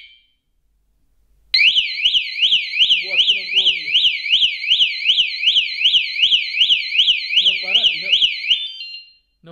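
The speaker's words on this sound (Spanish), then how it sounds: "Le damos a el bloqueo, se acaba de activar la alarma." Anti-theft bicycle lock alarm blaring right up close, a loud shrill warbling tone that rises and falls in rapid regular cycles for several seconds, then cuts out, with faint clicks and handling noise underneath.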